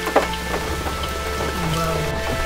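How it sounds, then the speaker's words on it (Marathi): Rain falls steadily near a temple in the Konkan region, a dense close patter on surfaces that continues throughout, with a faint low rumble beneath it. "पाऊस आज चालू आहे"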